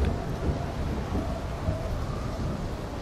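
Rain and thunder weather in the video game PUBG, a dense, steady hiss of rainfall over low rumbling, moderately loud and continuous with no talking.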